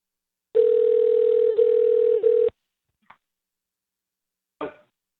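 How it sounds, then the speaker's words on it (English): Telephone ringback tone on an outgoing call: one loud steady tone about two seconds long, then silence with a couple of faint clicks. "Oh, I love it when y'all can hear it ringing."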